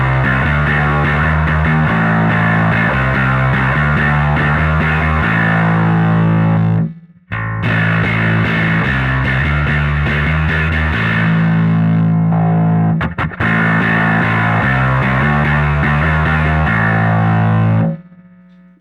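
Electric guitar through a Greathammer overdrive pedal at high gain and attack settings, playing loud, saturated riffs with thick distorted chords and low notes, broken by two brief pauses.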